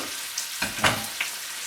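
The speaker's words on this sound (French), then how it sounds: "le fait de repasser les légumes dans la poêle, ça les rend à nouveau brillants" Vegetables going back into a hot frying pan give off a soft, brief sizzle and stir, with a few short crackling bursts over a low, steady background hiss. No one speaks.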